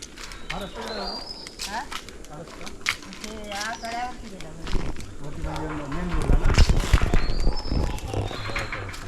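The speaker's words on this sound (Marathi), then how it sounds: "आवाज तुम्हाला येत असेल पक्ष्यांचा आवाज" Birds call and coo near a village temple in Jaitapur, soft chirps and dove-like cooing scattered under someone talking throughout.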